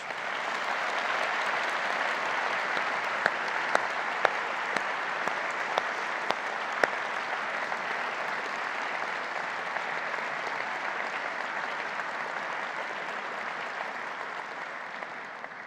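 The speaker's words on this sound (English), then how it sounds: "Please join me for one final round of applause" A large audience at an awards ceremony applauds steadily for about fifteen seconds, dense clapping with a few sharper claps standing out, slowly tapering near the end.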